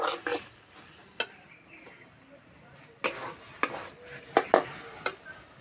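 Leftover rice with vegetables stirred in a pan, a few sharp spoon scrapes and clinks in irregular bursts over a faint sizzle, close and fairly quiet with gaps between strokes.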